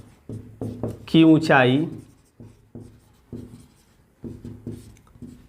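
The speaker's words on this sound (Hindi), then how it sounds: "अब लिख देंगे माना, जो जो माने हैं उसको लिखेंगे" A pen scratches across paper in short, quick strokes during a Hindi-language trigonometry lesson, the faint writing sounds interleaved with a teacher's voice speaking in bursts.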